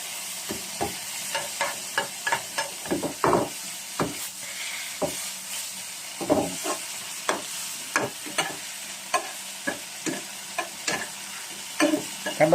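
Squid and basil stir-fried in a flaming wok: a steady bright sizzle broken by repeated sharp scraping clatters of the spatula against the pan, in a fast irregular rhythm, close and loud with no talk.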